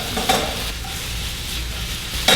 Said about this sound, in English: we're just going to keep sauteing these up